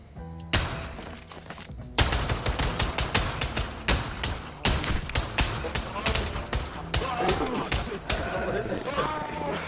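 Rapid, loud bursts of gunfire crackle almost nonstop in a VR video game, sharp shots packed close together with a brief pause early on, and voices are heard underneath.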